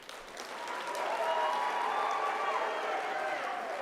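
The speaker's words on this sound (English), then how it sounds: "I'm not going to accept the nominal applause" Applause fills a university graduation ceremony hall, a sustained crowd clapping that swells after the first second and holds steadily, heard from a slight distance.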